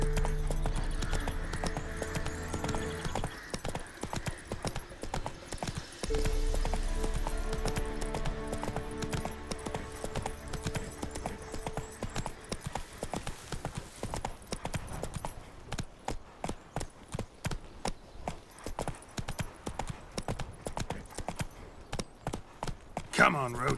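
Hooves of Roach, the horse from The Witcher 3, beat a continuous galloping rhythm that grows sharper and more distinct in the second half, after an opening layered with droning tones.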